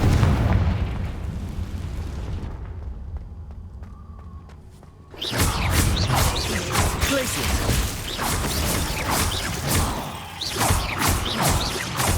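A Confringo fire spell explodes inside a cave in the Hogwarts Legacy video game, a sudden loud burst around the middle that sets off a sustained, crackling rumble after a quieter stretch of ambient noise.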